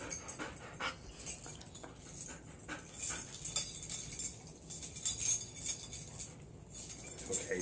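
A dog pants and whimpers softly nearby, with light metallic clinks like jangling keys mixed in, in irregular bursts over a quiet background.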